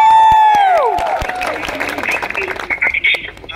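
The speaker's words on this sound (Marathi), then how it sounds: "त्यांच्यासाठी एकदा जोरदार टाळ्या." Applause at a launch party, a burst of crowd clapping that builds after a brief tone and carries on as a dense patter of many hands.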